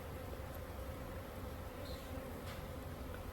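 Honey bees buzzing around a newly set-up backyard hive in sunshine, a steady dense drone of many wings close by with no voices.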